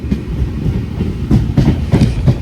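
A train passing on the railway during a morning rail journey, with loud rhythmic clickety-clack wheel beats and rumbling carriages, close and continuous.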